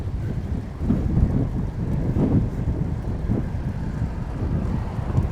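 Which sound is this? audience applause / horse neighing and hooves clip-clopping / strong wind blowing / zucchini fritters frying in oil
strong wind blowing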